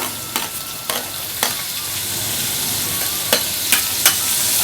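Finely chopped onions fry and get stirred in a pan for an egg curry, a steady sizzle underneath with several sharp scraping strokes of the spoon at irregular intervals, close and fairly loud, no talking.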